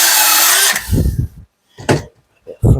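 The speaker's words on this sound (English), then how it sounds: "Use the drill to spin the end off." Power drill spinning the end off a pipe while plumbing a sink unit, a loud whirring burst followed by short bursts of rattling and handling noise.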